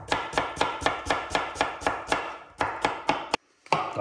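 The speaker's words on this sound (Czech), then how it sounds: "Tak nakrájím si cibulku." Knife chopping onion on a cutting board for a pork belly dish: steady, evenly spaced crisp chops, about three per second, close and loud, a brief pause near the end before a last cut.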